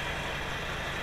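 A truck engine idles in the SnowRunner video game, a steady low rumble running continuously and evenly at moderate level with no voices over it.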